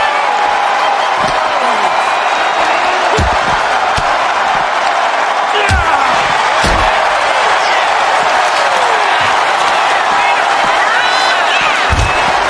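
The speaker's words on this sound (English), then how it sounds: "the crowd loves what they are seeing" A loud, steady crowd roar fills a WWE SmackDown wrestling video game match without a break, with sharp slams and thuds hitting on top at irregular moments. Commentary runs underneath.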